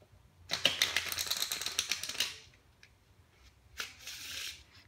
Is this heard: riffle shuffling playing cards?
yes